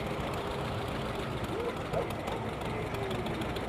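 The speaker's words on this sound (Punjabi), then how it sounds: "ਲੋਹੇ ਦੇ ਚੱਕਿਆਂ ਵਾਲਾ ਚੱਲਦਾ ਹੋਇਆ ਜੌਂਡੀਅਰ" A 1952 John Deere tractor with steel wheels runs in Edmonton, Canada, giving a steady, low engine rumble mixed with broad outdoor noise, continuous and fairly even for the whole stretch.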